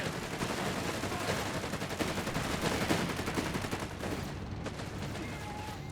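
Sustained machine gun fire rattles in dense rapid bursts during a Company of Heroes 3 battle, layered with other gunfire and fairly loud throughout.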